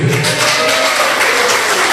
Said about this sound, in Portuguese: Um aplauso, bem.